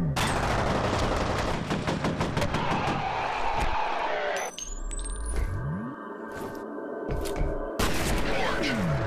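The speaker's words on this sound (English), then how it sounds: "I was laying enough cover fire on that man to not allow him to get a clear shot with the shotgun" Automatic gunfire from the shooter FEAR rattles in a dense rapid burst for several seconds, then breaks off into sparser shots and mechanical clanks, loud and close throughout.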